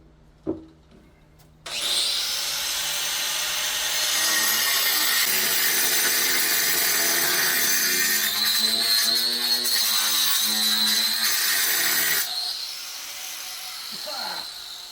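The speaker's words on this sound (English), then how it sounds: "I'm using one of these diamond cut-off wheels." A diamond cut-off wheel on a power tool whines through a cut for about ten seconds, loud and close, starting after a short quiet moment and then stopping.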